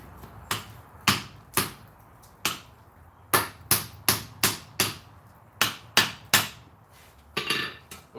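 Hot metal being hammered at a forge while shaped and cleaned up, about a dozen sharp ringing blows landing in uneven bursts with short pauses, close and loud.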